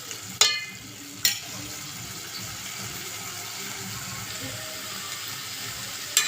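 Chicken pieces simmer in a pan as the last of the water cooks away, giving a steady bubbling sizzle with two sharp utensil clinks near the start and another at the end.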